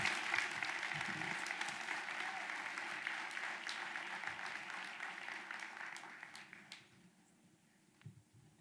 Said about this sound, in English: Can we give another round of applause for Dr. Pinkard?